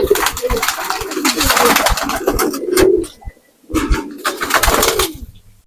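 Newly bought pigeons released from a cage coo and flutter in dense bursts, with a short lull before the busy, close-up commotion resumes.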